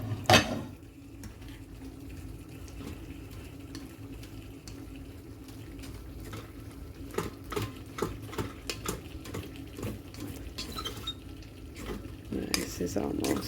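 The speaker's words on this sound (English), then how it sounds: "Give it a stir." Chicken curry masala simmers in a pot while a spoon stirs it, giving faint, sparse clinks and taps against the pot over a low bubbling background.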